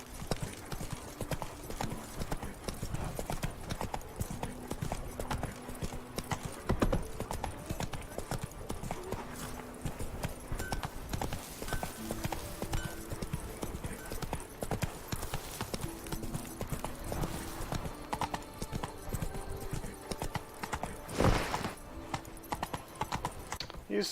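Horse hooves clip-clop in a steady, rhythmic gait throughout a Witcher 3 game scene, moderately loud against the game's background ambience, with brief spoken lines now and then.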